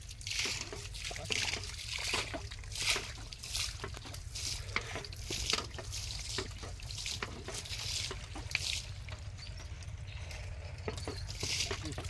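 Water is bailed out of a canal by hand to catch fish, making quiet repeated splashes and trickles in a steady rhythm, with faint outdoor background noise.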